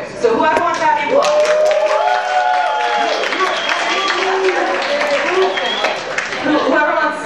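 Audience at a live music show clapping and cheering loudly for several seconds, mixed with voices calling out from the crowd.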